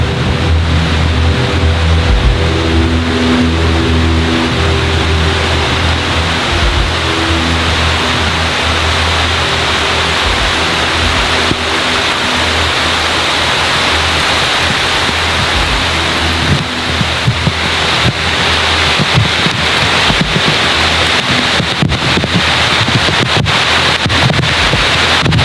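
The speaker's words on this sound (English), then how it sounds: "I think it's raining!" Rain pours steadily over the Amazon jungle, a continuous, loud broadband wash with faint low rumbling beneath and no voices.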